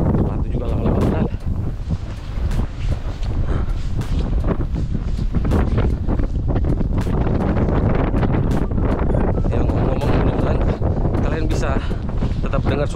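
Strong wind roars steadily into the microphone during a Norwegian snowstorm, a loud continuous buffeting rush with gusty rumble throughout.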